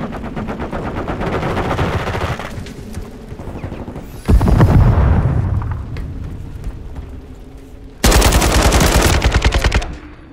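Gunfire in the video game Call of Duty Modern Warfare 3, loud rapid automatic bursts with a heavy boom midway, then another sharp stretch of machine-gun fire near the end.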